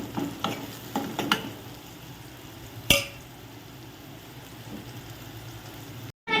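Leftover night rice being tempered in a pan with seasoning, lemon-rice style, giving a steady sizzle and frying hiss with a few clinks and scrapes near the start and one sharp knock midway.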